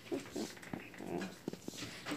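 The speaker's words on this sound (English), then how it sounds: "I wonder why there's a puppy in here" A puppy whimpers and yips in short, close bursts with brief pauses, soft whining cries repeating through the moment.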